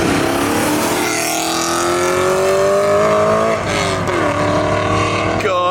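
BMW M3 engine revving loudly through a sporty exhaust as it drives, heard from outside the car, pitch climbing steadily through the gears with rough, throaty tone and a brief shift.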